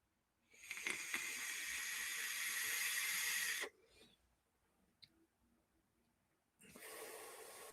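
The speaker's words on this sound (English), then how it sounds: "we'll have a puff on a regulator just to try it" A long airy hiss of breath drawn through a vape regulator for about three seconds, close and steady, followed by a quiet pause and then a second, shorter hissing draw.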